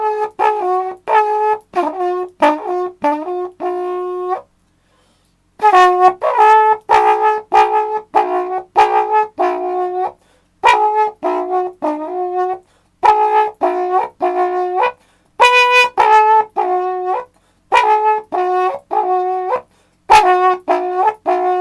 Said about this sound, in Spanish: lo importante es cómo suena la chuchuca